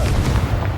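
A Confringo blast spell bursts in Hogwarts Legacy, a short dense low rumble with a booming burst quality, loud and close, lasting under a second.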